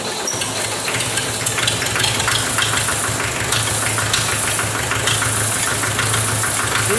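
Glow-plug engine of a 1959 B275 runs steadily at low throttle, a continuous close mechanical drone with a faint uneven stumble, no voices over it.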